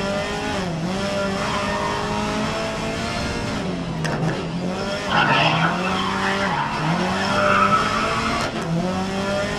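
In the racing game GRID 2019, race car tires squeal and skid under very late braking while the engine drones and shifts pitch, forming a continuous, loud screech over several seconds.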